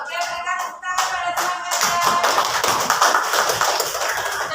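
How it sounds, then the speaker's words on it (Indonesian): A classroom group at a teacher coaching session claps, starting with a few scattered hand claps under a voice and building into fuller, steady applause that continues to the end. "berikan tepuk tangan pada"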